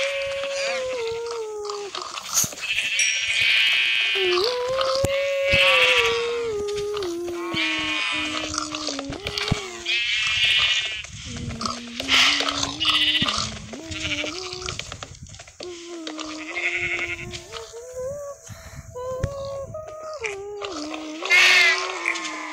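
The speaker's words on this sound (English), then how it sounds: "There's a pink sheep among us." Sheep in Minecraft bleat over and over, the game's wavering, nasal calls arriving close and loud in quick succession, one after another with short gaps, with no talk.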